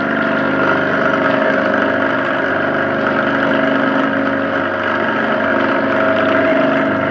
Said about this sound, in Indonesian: Lalu masuk ke sentrifugal.